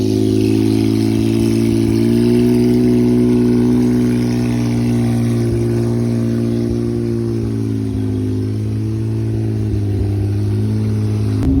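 Ferrari 812 Competizione V12 engine held at a loud, steady high-rev drone with a smooth rich tone, pitch sagging slightly midway before holding again; no talking.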